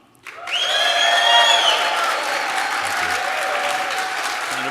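A game show studio audience breaks into applause after a short silence, a sustained burst of clapping that peaks early and then holds steady at a slightly lower level, without speech.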